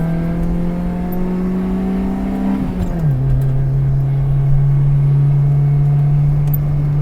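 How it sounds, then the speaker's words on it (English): A Proton Saga driving through a roundabout, its engine holding a steady drone that dips in pitch partway through while the cornering strain continues, close and fairly loud, with no talking. "4 tires squealing."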